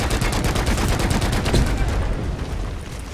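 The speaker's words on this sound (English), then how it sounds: "Throw some grenades down there." Dense, continuous gunfire and explosions from grenades thrown in the video game Deep Rock Galactic roar at close range, a loud barrage of rapid bursts with a heavier blast in the middle before easing slightly.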